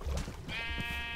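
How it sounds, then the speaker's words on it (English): A Minecraft sheep bleats close and clear, one drawn-out wavering cry following a short low rustle, with no talking. "I have a third sheep now that I didn't really want"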